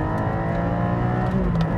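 A steady low engine drone and road rumble fill the space evenly, a muffled, constant hum from inside a moving Porsche 718 GT4 sports car.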